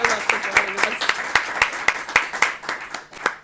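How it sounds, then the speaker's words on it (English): Audience applause after a talk on the Israeli-Palestinian peace process, a few distinct claps at a steady rhythm, fairly close, thinning toward the end. "could we please get a round of applause for Gilad and all of his insights?"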